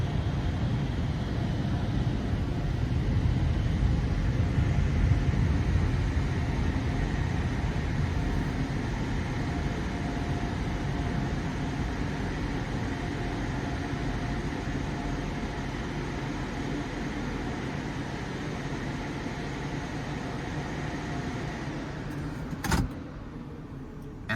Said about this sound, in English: Looks like it's a fairly new motor on the wash arm there.